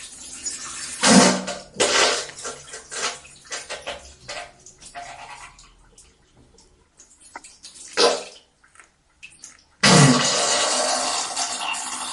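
Water from a garden hose gushes in several loud, splashy bursts with quieter trickling gaps between them, close by, while working on a Ranger utility vehicle that has sat unused for nine months.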